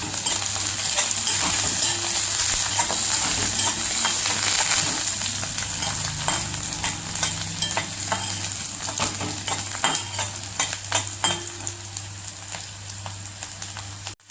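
Garlic cloves and curry leaves sautéing in a pan, producing a loud, steady, crackling sizzle with bursts of stirring and spattering throughout, close up and with no voices.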